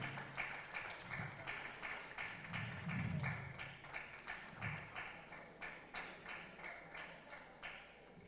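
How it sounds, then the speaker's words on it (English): An audience claps for Bishop Mathew Hassan Kuka at his 70th celebration and awards event, a faint, distant and steady rhythmic applause that keeps a regular beat throughout. "Please give him a round of applause,"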